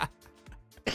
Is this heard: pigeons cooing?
no